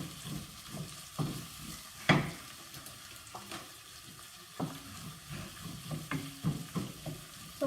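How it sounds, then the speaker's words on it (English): Onion frying in a pan for an egg dish, with soft crackling sizzle and occasional stirring scrapes and clatters, steady and close with no talking. "My onion is getting cooked."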